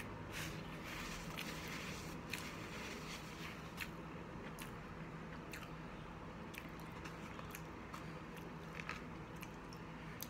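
Close-up, steady sequence of wet squishes and soft crunchy bites as chicken nuggets dipped in ketchup are chewed, with small clicks throughout and no talking.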